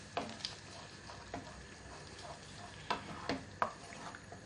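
A spoon stirring curry paste into base gravy in a pan for restaurant-style aloo gobi, with a soft steady sizzle broken by several light scraping knocks against the pan, close and fairly quiet.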